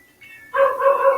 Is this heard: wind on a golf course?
no